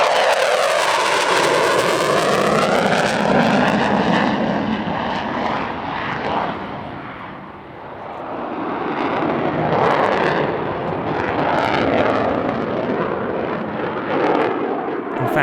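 A Eurofighter Typhoon fighter jet flies a display at the Radom airshow, a loud, sustained roar with sweeping pitch changes as it passes and climbs, swelling and dipping in intensity.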